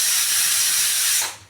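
Steam hisses loudly and steadily from a kitchen pressure cooker whistle while a Maharashtrian misal curry cooks, then cuts off and fades near the end of the burst.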